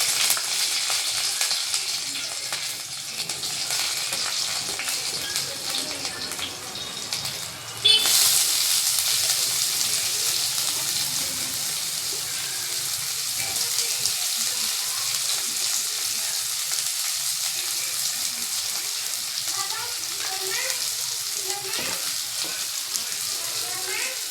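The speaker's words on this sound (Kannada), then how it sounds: "ಇಷ್ಟನ್ನು ನಾನು ಬಾಣಲಿಗೆ ಹಾಕಿ ಫ್ರೈ ಮಾಡ್ಕೊಳ್ತೀನಿ." Onion, garlic, green and dry chillies and curry leaves frying in a pan, a continuous bright sizzle that jumps louder partway through as more goes into the hot oil, with occasional stirring.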